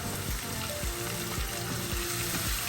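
Onion fries in butter and oil left over from frying chicken: a loud, continuous sizzle with rhythmic stirring strokes through it, close up and with no talk.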